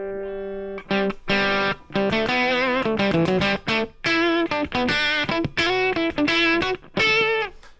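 A heavily effected electric guitar plays a quick melodic run through a pitch echo effect being tweaked, with pitch-shifted echoes stacking harmonies and warbling tones between short pauses.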